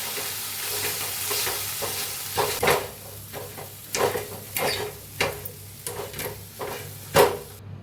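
Hot thecha ingredients are crushed and pounded in a pan on the stove, giving irregular scraping knocks and thuds over a low background hum. The hits are uneven, some stronger than others.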